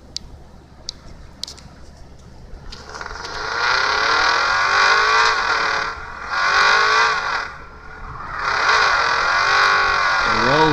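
A video game car engine in a drifting game whines and rises in pitch in several surges, dipping between revs, preceded by a few sharp clicks.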